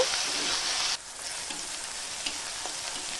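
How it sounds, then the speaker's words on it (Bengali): Finely chopped onion frying in a pan for a Bengali egg devil, a steady close sizzle that drops slightly in level after about a second and keeps crackling evenly. "এখন দিয়ে দেব ছোট ছোট করে কুচিয়ে নেওয়া বেশ খানিকটা পেঁয়াজ পেঁয়াজটাও একটুখানি ভেজে নেব"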